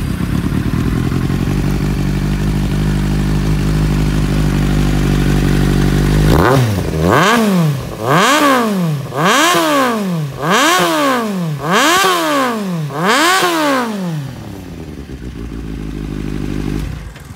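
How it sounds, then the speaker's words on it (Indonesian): A 2013 Kawasaki Z800 with an SC Project GP carbon exhaust idles with a loud, steady rumble, then is revved hard six times in a regular rhythm, each rev rising and falling sharply, before settling back to idle, close to the bike with no talk. "Exhaust menggunakan SC Project. Okay, exhaust menggunakan exhaust SC Project. Alright, jom kita belanja bunyi Z800"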